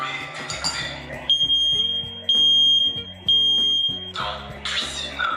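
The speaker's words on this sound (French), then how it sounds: "On va essayer de provoquer de la fumée au niveau d'un détecteur pour voir si ça s'enclenche bien" A piercing high-pitched smoke alarm, set off by smoke during a home renovation test, beeps in long repeated tones, loud and close, with clattering and shuffling noises around it.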